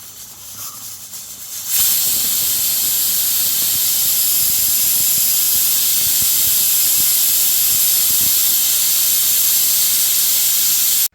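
A pressure cooker cooking masala rice porridge releases a loud, steady hiss of steam that bursts in abruptly after a short quieter moment and then holds continuously to the end.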